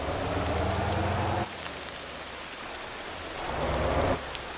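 Rain pouring down in the truck-driving game Motor Town, a constant wash of raindrops with louder rumbling stretches at the start and end and a quieter hiss between, no voices.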